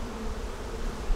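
Honey bees buzz in a dense, continuous hum around an open hive during an inspection, close and steady.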